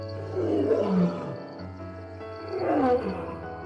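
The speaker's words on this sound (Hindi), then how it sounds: "सूरज डूबने पर मुझे अपनी स्टूडियो में शेरों के दहाड़ने की आवाज सुनाई देती है।" On the savanna after sundown, lions give two deep, rumbling roars a couple of seconds apart, strong and near, while a steady insect whine hangs in the background.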